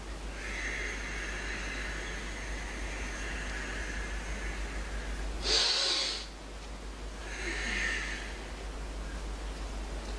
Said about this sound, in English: breathing out again. Just do it toward you again.